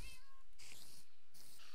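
A Minecraft cat meows in a short series of game-sound mews, separated by bursts of hissy noise, with no voices.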